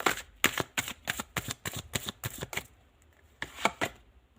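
Tarot cards shuffled by hand in a quick run of about ten crisp riffling snaps, then a short pause before a couple more card flicks as one is drawn, close and clear with no talking.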